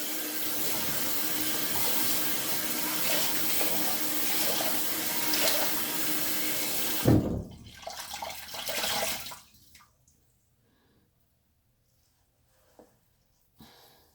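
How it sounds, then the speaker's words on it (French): Warm tap water running steadily into a sink to rinse off a yogurt and baking soda face mask, loud and continuous for about seven seconds, then splashing and dripping as it stops, leaving near silence with a couple of faint knocks. "Nous allons laver notre masque à de l'eau tiède."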